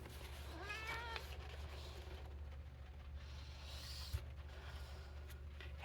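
Pet cats meow indoors: a short run of quavering meows early on, fairly quiet, over a low steady household hum.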